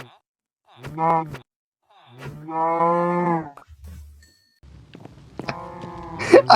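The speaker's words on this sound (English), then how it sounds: "Logan, Logan, do you remember when I murdered that cow while you were AFK?" Cows mooing in the Minecraft video game, three separate drawn-out moos spaced a second or two apart, close and clear with a few soft footstep-like sounds between them.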